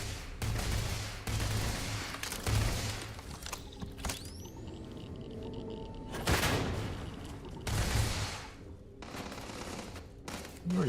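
Gunfire in the Starfield video game, with bursts of shots breaking out in clusters between quieter stretches and faint mechanical game sounds between volleys, at moderate distance.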